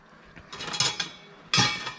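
A metal slotted spatula scrapes and clinks against a cooking pot as meat for spaghetti sauce is scooped out, two bright clattering bursts about a second apart with quieter scraping between.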